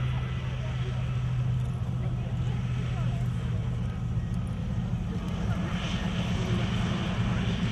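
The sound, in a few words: aircraft engine at an air show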